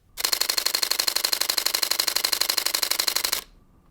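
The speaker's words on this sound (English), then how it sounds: "here's a mechanical burst at 12 frames per second." Canon EOS R5 Mark II mirrorless camera firing a mechanical shutter burst at 12 frames per second, a rapid, even train of crisp clicks lasting about three seconds, close and clear, then stopping abruptly.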